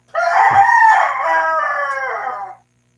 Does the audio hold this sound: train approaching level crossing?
no